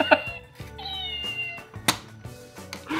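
A cat-shaped pencil sharpener gives out a series of electronic meows, close and fairly loud, with brief clicks and bursts of mechanical noise between the calls.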